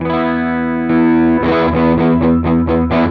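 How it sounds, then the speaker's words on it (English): Thick, heavily overdriven electric guitar chords through a Revv Shawn Tubbs Tilt Overdrive pedal set to its muddiest boost ring out with a dark, muddy tone, a sustained chord followed by several quick strummed hits. "This would be the muddiest boost sound."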